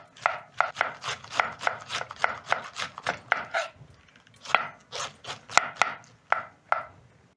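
A knife thinly slicing cabbage on a board for coleslaw, in steady rapid chops with a short pause midway, close and crisp with no talking.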